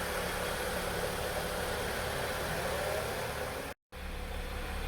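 A BMW 335i with a newly fitted catch can, aftermarket intercooler and larger charge pipe idles in a home garage, a faint, steady low engine hum with one brief dropout near the end.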